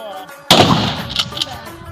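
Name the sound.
gunshot from rifle firing practice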